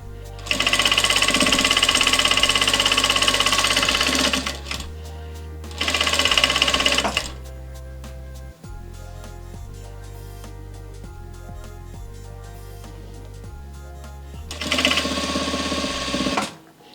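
Fabric runs through a Vevor industrial sewing machine in three loud, close bursts of rapid stitching, a long run, a short run and a final run, separated by pauses with soft music underneath.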